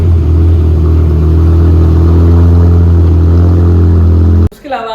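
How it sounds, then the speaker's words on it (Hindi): A BMW E60 M5 with quad exhaust tips revs hard, a loud, steady, droning engine note held close for several seconds before cutting off abruptly. "क्वाड एग्जॉस्ट टिप्स लगे हुए हैं, और जी इनकी आवाज इनको वैसी किस्म की है कि मैं आपको सुनाता हूँ।"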